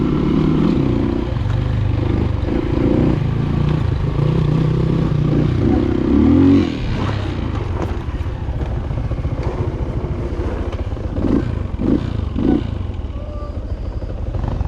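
Rieju enduro motorbike climbing a slippery, landslide-scarred hill trail in the Chandragiri Hills, its mid-pitched engine droning and revving steadily throughout, with clattering bumps and scattered voices nearby.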